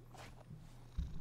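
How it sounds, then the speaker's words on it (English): A cat's purr from a card video game, looping as a steady low rumble that stays quiet and alone through the short clip, with a slightly louder burst near the end. "that's that cat making that purring noise over and over."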